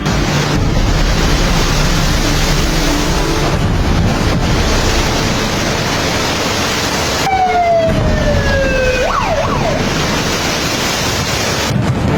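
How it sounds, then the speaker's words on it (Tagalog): Strong typhoon surf pounding the coast of a coastal barangay in Catanduanes during Typhoon Pepito, a loud continuous roar with heavy wind buffeting the microphone throughout; a wailing siren-like tone cuts in briefly near the end. "hinampas na ng malalakas na alon"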